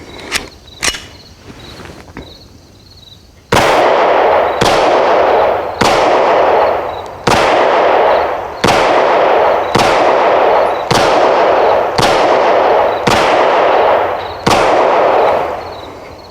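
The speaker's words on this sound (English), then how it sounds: "This has been the best out-of-the-box high-point pistol I've ever fired." Hi-Point YC9 9mm pistol fired outdoors in a slow, even string of about ten loud, sharp shots with ringing decay between them, after a couple of quieter clicks and handling noises.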